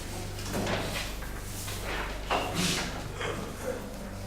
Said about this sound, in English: Just want to come in and close the door.